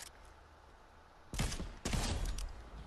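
Video game gunfire erupts as two loud, dense bursts of rapid shots after a second of low background hum, close and harsh.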